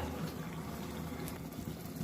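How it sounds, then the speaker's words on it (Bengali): A cup of milk poured into chicken simmering in a pan, giving a steady soft gushing and bubbling liquid sound, fairly close and continuous, with no talk. "এবার আমি 1 কাপ দুধ দিয়ে দেব"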